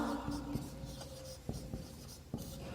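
A pen or chalk writes an equation by hand, with soft scratchy strokes and a few sharp taps, close but quiet over a faint low hum.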